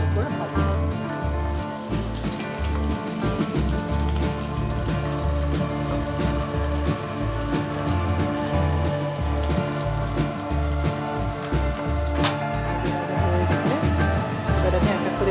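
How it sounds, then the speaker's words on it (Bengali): Chopped onions frying in hot oil with cinnamon while Bengali mutton kosha is cooked, giving a steady, dense sizzle and crackle like rain on a surface that runs loud and unbroken throughout. "ভালো করে পেঁয়াজটা এবারে লাল করে ভাজতে হবে।"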